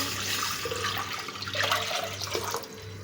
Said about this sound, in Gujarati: અહીંયા આપણે ગેસમાં તપેલી ચડાવી દીધી છે। તો પાણી નાખું છું।